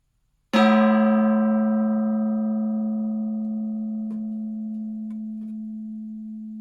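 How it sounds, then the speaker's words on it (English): A single gong strike opens with a sharp attack, then rings on with a rich, sustained metallic tone that fades only slowly over about six seconds, alone and with no voices. "there's your daily gong hit"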